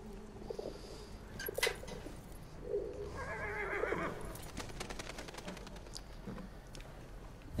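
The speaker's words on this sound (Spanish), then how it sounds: "Este caballito, no quiero preocuparle a él" A horse whinnies in the World War I video game Battlefield 1, with a couple of whinnies over a low ambient backdrop, soft hoof clatter and scattered clicks, moderately close with no speech.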